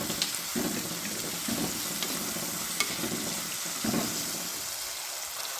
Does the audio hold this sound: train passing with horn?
no